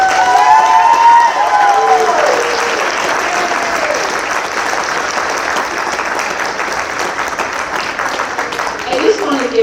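An audience at the Hawaii Wildfire Summit breaks into loud, sustained applause with scattered cheers for an award winner; voices ring out briefly at the start and talk runs underneath as the clapping carries on.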